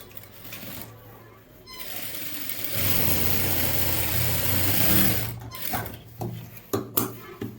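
A sewing machine stitches a pant pocket, its mechanical whir running loud and steady for a few seconds before slowing into short bursts and clicks close by.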